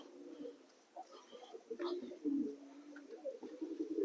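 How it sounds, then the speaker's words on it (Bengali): Jet-black fantail pigeons coo softly in a series of low, throaty, repeated calls, faint and fairly close, with small pauses between phrases. "আর এইখানে একটা দেখুন ওইখানে উঠে গেছে একটা পায়রা চলুন একে ধরি"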